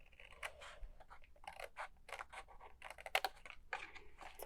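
Scissors cut through card stock for a treat box, making a quiet run of short snips and crisp slicing strokes, close by and steady for several seconds.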